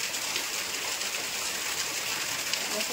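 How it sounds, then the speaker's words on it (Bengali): Steady rain falls outside a home, a dense, even hiss of drops that holds at one level throughout, with no talk over it. "সবেমাত্র আসলাম আর এখন বৃষ্টি শুরু হয়েছে।"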